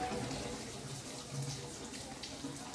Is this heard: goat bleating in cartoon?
no